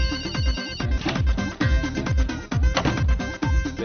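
A telephone rings loudly and insistently in repeated electronic bursts, several rings in a row with a busy musical backing beneath.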